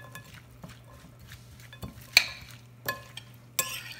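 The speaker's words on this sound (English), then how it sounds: "Now let's mix this all up together," A spoon mixes fresh garden salsa with cilantro in a bowl. Soft wet stirring runs throughout, with a few sharper clinks against the bowl near the end, close and quiet.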